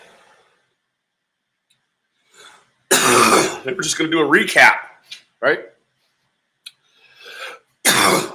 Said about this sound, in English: that coughing is perfectly okay